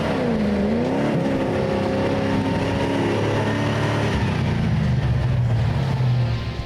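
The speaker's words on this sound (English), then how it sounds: "let's see if the lovely sounding Defender can master this climb" A Land Rover Defender's engine revs hard while it struggles up a muddy hill climb at an off-road challenge, loud and close, pitch rising through a gear change then dropping to a labouring drone.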